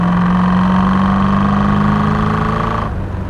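A Chevrolet Corvette C3 with the L-48 V8 runs right after an automatic downshift, giving a loud, close, steady engine drone with a strong low hum that eases slightly near the end.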